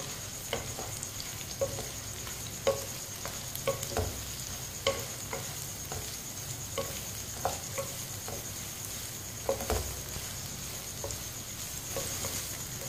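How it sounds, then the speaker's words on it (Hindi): Chopped ridge gourd stir-fried in a pan with a spoon, a continuous soft sizzle under repeated light scraping and tapping strokes, close and fairly quiet. "अब इसे 3-4 मिनट के लिए ऐसे ही चम्मच चलाते हुए फ्राई कर लेंगे।"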